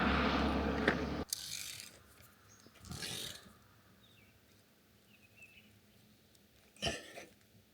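A ratcheting tool tightens a part on a Volvo C30 R-Design after it is lowered to the ground, giving a few brief, separated clicking and ratchet bursts with quiet pauses between them.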